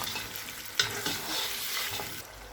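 Mutton frying with yogurt in a pot as it is stirred, a steady loud sizzle with a sharp scrape of the spoon and a couple of wet slaps, close and constant, no voices.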